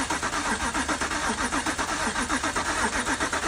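A junkyard BMW N52 engine fires up for the first time, settling into a loud, steady running note with fast, rhythmic lifter ticking clattering throughout, close up and with no talking.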